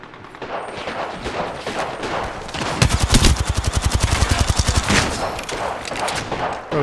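Automatic gunfire in Apex Legends on Xbox Series X, with dense rapid bursts that swell into a loud sustained stretch of evenly spaced shots mid-clip, then continue as quicker, busier firing.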